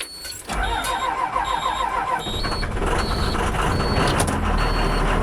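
An old school bus engine cranks and starts after days of sitting in the cold, settling into a loud, steady idle close by, with a repeating electronic beep layered over it.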